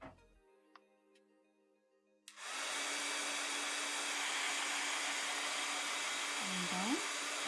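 A hair dryer switches on with a click and blows steadily and loudly to dry wet paint, a constant rushing whir that runs to the end with a brief pitch wobble near the close.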